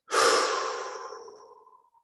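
One long, slow exhale during a guided meditation, airy and close, starting strong and tapering off gradually over about two seconds, alone without talk.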